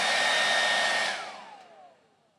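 An Infiniti Conair Tension blow dryer (D214SR) runs on 4b/4c hair with a steady loud whirring hiss close by, then winds down with its pitch falling as it switches off, no talking.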